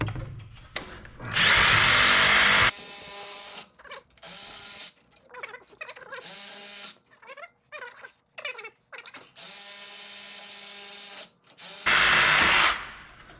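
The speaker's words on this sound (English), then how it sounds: "These stainless lines are a little bit harder to cut." A power tool cuts stainless steel brake lines on a 1995 Ford Bronco during a Godzilla engine swap, giving loud, harsh bursts of whining cutting noise with short quiet pauses and clanks between them.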